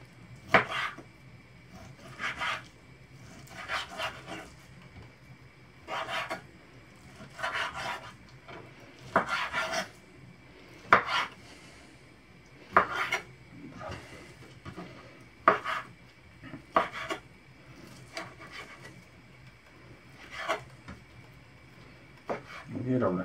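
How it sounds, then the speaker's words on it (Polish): A kitchen knife chops chicken fillet into small cubes on a board, with sharp, irregular knocks spaced a second or two apart, close and clear, while someone talks over them. "Fileta pokroimy w drobną kostkę."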